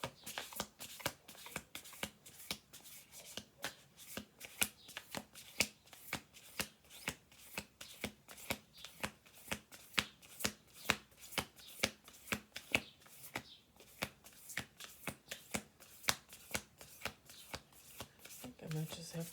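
Playing cards are shuffled over and over, a fast run of crisp riffling snaps in a steady rhythm, close and fairly quiet, with a voice talking underneath.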